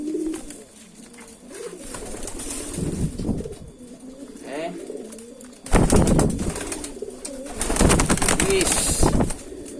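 Pigeons coo softly in the background while people talk nearby, with occasional bursts of louder noise and fluttering.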